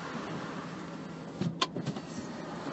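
A broken car power window lowers on its own inside a parked car, a faint short motor whir with a few soft clicks and thumps over quiet cabin hum, close by with no talking.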